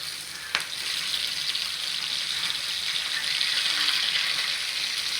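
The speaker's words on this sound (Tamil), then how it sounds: "அதில் தாங்க மீனை வந்து ஃப்ரை பண்ணியிருக்கிறோம்" Neymathi sardine fish frying in hot oil with curry leaves, a continuous loud sizzle and crackle close by, opening with one sharp tap.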